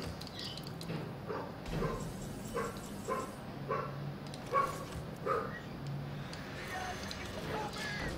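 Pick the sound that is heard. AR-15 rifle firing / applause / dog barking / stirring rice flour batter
dog barking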